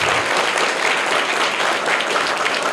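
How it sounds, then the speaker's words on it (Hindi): Loud, dense applause from a group at a quiz for children, steady clapping that fills the whole moment without any speech. "जोरदार तालियां इनके लिए।"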